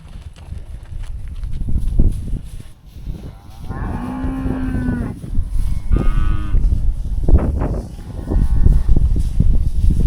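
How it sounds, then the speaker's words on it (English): Cattle calves in a barnyard moo several times, with drawn-out calls in the middle and later part, close and loud over shuffling hooves and general farm movement. "I think she's one of our bigger calves, along with that nice red one up there."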